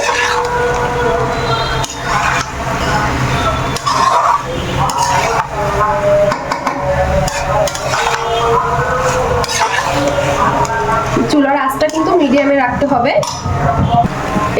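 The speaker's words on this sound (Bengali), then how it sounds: "খুব ভালোভাবে নেড়ে চেড়ে মিক্সড করে নিব" A spoon scrapes and clinks in a pan as pasta is stirred and mixed for a child's meal, giving loud, close, continuous metallic scraping with occasional sharp clanks, and sizzling or rattling underneath.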